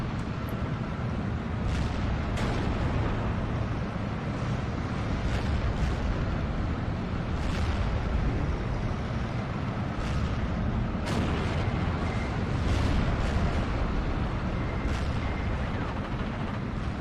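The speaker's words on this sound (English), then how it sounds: "They're currently just firing HE at this infantry as they move forwards." Tiger tanks firing high-explosive shells at advancing infantry in the Steel Division 2 video game, heard as repeated booming blasts and distant artillery thuds over a dense, continuous rumble of battle.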